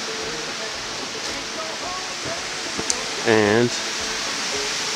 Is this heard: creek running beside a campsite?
yes